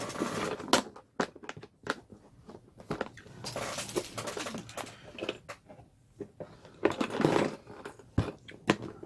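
A cutter slices through fabric for a handmade Tilda doll, giving irregular crisp crunching and scraping strokes in short bursts with pauses between, close up and without speech.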